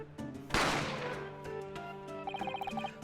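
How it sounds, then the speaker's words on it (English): A single sharp gunshot effect cracks out in The Great Ace Attorney Chronicles video game, followed by a decaying ring, then a short rapid series of bright chiming tones from the game's music. "A gunshot rang out"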